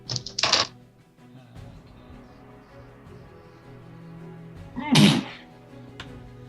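A single loud, abrupt sneeze bursts out near the end of a quiet stretch during a tabletop game session, preceded by a brief sharp knock or slap.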